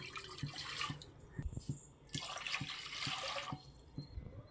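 Water poured into a pressure cooker for cooking lentils, splashing in uneven bursts with a couple of pauses, alongside soft knocks and clinks of the vessel, close and fairly clear.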